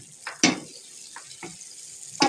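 About 300 grams of cut onions and five whole green chillies hitting hot oil, giving short, scattered sizzling crackles and stirring scrapes, close by and fairly quiet between bursts.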